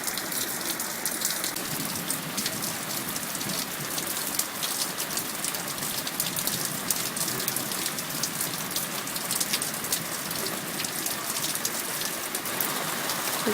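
Steady rain falls all day on a July afternoon, a dense, even hiss of drops striking surfaces, continuous and moderately loud with no voices or thunder.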